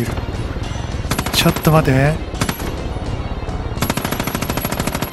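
Loud automatic gunfire in Far Cry 5, repeated rapid bursts with short gaps, and someone speaking Japanese briefly over the shooting.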